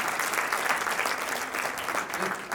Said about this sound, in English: Give a hand clap to him.